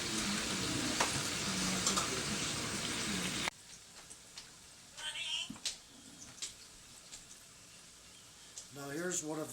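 Fleischkuekle meat pastries frying in hot cooking oil, a loud steady sizzle for the first few seconds, then quieter kitchen clatter and handling noises with a voice speaking over them.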